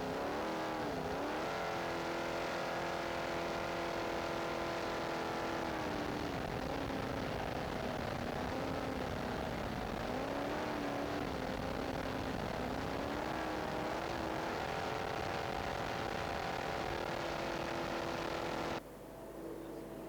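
A racing jet boat at the 2004 New Zealand Jet Boat Marathon roars at full power, a loud sustained engine drone whose pitch rises and falls with the throttle for about twenty seconds before cutting abruptly to a lower rumble, with no talking.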